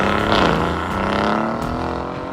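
Engine of a new Aston Martin Vantage driving, a loud, steady exhaust note with a rising pitch, heard close and alone.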